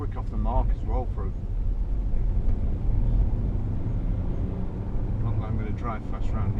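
A 2012 Range Rover Sport with the 3.0 SD V6 diesel pulls away, a steady low engine rumble and road noise filling the cabin, with faint voices at the start and end.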